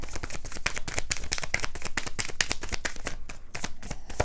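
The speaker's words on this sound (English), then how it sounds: "let's try one more shuffle" Rapid riffling and snapping of a deck of tarot cards being shuffled, a dense run of crisp clicks lasting several seconds, close and loud.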